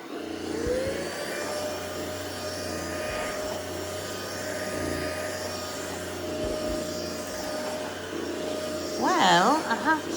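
An Ultenic cordless vacuum cleaner runs on a lower suction setting, a close, steady whine and hum throughout with a brief rising surge near the end, and a voice is heard over it.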